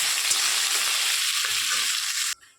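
Potatoes with turmeric and salt sizzle loudly and steadily in a hot pan, a close, dense crackle that holds for a couple of seconds before abruptly dropping away.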